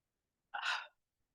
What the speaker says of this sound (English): let's do 5 of those deep breathing exercises today and begin